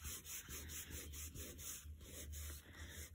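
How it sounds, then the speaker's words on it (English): Paper towel rubbed briskly over embossed, inked areas of a stamped card, a close, soft, steady scrubbing in repeated back-and-forth strokes with no voice. "with a bit of paper towel, just rub over your embossed areas to get the ink off the embossing powder"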